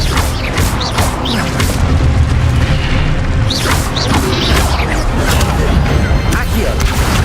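Expelliarmus disarming spells cast in Hogwarts Legacy combat, a run of whooshing magical blasts and booming impacts over continuous loud battle noise, with voices speaking in between.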